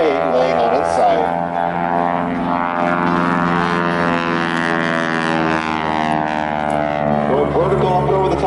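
A Super Stearman PT-13 biplane performing aerobatics at an airshow, a loud droning radial-engine roar that rises and falls in pitch through a maneuver, with a commentator's voice heard over it.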